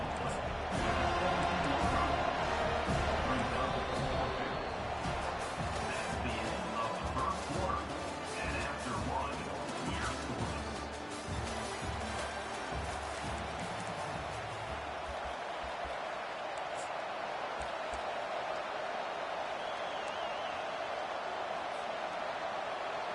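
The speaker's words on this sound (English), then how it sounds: "this crowd is making it miserable on this offense" Stadium crowd at a football game, a loud roaring din with clattering and cheering bursts that gradually fade into a quieter murmur near the end, with commentary-like voices mixed in.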